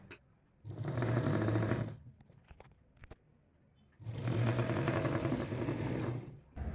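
A sewing machine stitches the side joint of a princess-cut blouse, running in two steady whirring bursts separated by a short pause with light handling sounds.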